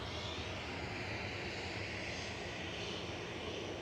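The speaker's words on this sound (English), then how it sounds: "the loitering EasyJet is now moving" EasyJet airliner engines roar steadily from the far end of the runway at Manchester Airport as the jet begins moving, a constant broad, moderately distant rumble with no voices.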